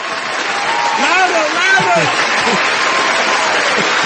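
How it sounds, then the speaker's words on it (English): Studio audience applause rises as an intro for a radio host, a steady wash of clapping with voices talking over it. "Here we have the applause for him. Louder!"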